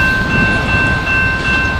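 A train passing at a road crossing with a long line of vehicles waiting, a loud steady rumble with a high, sustained tonal ring, continuous throughout with no talk.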